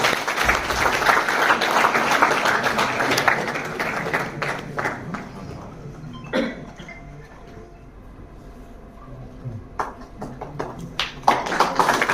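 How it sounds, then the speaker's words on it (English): Audience applause at a launch event for next-generation UAVs for Indian defence. A dense burst of clapping fades after about five seconds, followed by scattered individual claps and light taps. "Let's have a round of applause, everyone."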